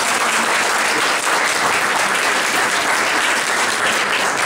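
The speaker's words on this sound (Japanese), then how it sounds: "皆様3名にもう一度盛大な拍手をお願いします" Loud, continuous applause from guests at a Rugby World Cup 2015 gala reception at the British Embassy, a dense crowd of clapping hands holding steady throughout.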